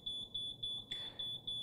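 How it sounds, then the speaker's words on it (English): A Sidewinder KZ-M303 machine emits a steady series of high, pure electronic beeps during calibration, evenly spaced and fairly loud, with one longer tone partway through. "the green light is lit and the machine starts beeping"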